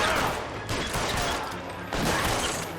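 Gunfight in L.A. Noire, with dense bursts of gunfire in rapid volleys and two sharp fresh blasts near the start and near the two-second mark, loud and close with little talk.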